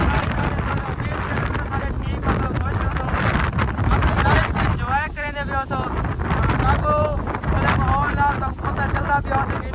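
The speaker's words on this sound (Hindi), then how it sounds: "काफ़ी तेज हवा चली गई है अंधारी है" Strong dust-storm wind roars steadily with gusty buffeting against the microphone, loud and continuous, while someone talks over it throughout.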